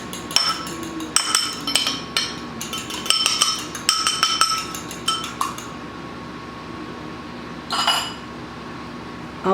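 A single egg is beaten in a bowl with a utensil, giving quick bursts of close, bright clinks against the bowl. The strokes are loud and rapid, then stop, and one short final flurry follows after a quiet gap. No one speaks.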